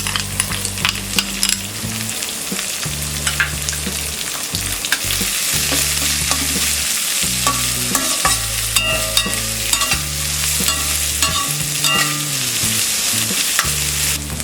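Finely chopped onion sizzles loudly in a pan for millet upma, with brisk stirring scrapes and clinks throughout and low humming tones underneath, close by and without speech.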